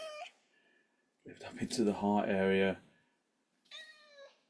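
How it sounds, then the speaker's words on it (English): A house cat meows during a seated yoga stretching class, one long drawn-out meow in the middle and a short one at the end, close and fairly loud, after a calm instructor's voice. "That's the cat, sorry, that's not me."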